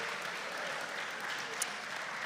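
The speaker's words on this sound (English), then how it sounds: "There's some applause." Faint, distant applause ripples through a college opening convocation audience, a soft, even patter of many hands heard from afar.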